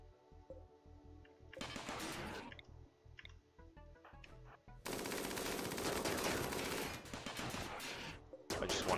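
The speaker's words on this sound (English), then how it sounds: "So we have a full complement of turrets out front." Defensive turrets in the video game Europa blast at attacking centipedes: bursts of dense rapid gunfire, one around two seconds and a longer sustained volley from about five to eight seconds, over a low game soundscape, with no voices.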